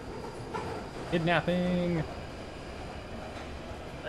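Steady interior rumble of a London Overground train carriage in the game Fallout London, running continuously beneath a man's brief spoken outburst.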